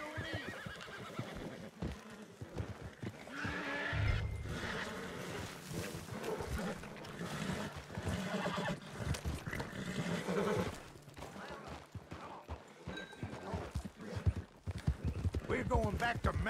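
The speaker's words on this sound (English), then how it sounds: "They got horses here." Horses whinny and neigh repeatedly in the Western video game Red Dead Redemption 2, with hooves clopping and someone speaking over the calls.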